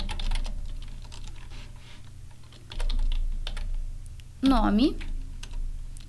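A username is typed on a computer keyboard, with light clustered key clicks in short bursts, close and faint beneath someone speaking Portuguese.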